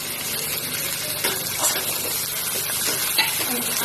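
Whole spices, cardamom, cashews, ginger and garlic fry together in oil for a chicken curry, making a dense continuous sizzle that is fairly loud and close, broken by occasional stirring scrapes.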